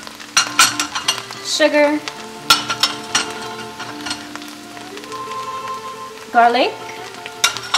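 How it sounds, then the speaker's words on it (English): Onions sautéing with masala in a pan for Afghan sweet and savory pumpkin, a steady sizzle under stirring and scraping, with a voice talking intermittently over it. "The onions are sauteed, adding the masala, black pepper, salt"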